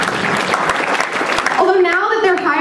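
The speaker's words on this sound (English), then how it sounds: "Clap it up." A comedy audience breaks into loud applause that fills the first half, then a voice rises over the tail of the clapping as it thins out.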